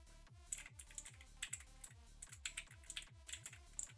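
Quiet, rapid typing on a custom-made computer keyboard, a steady patter of clicky keystrokes with occasional sharper clacks, close and continuous without speech.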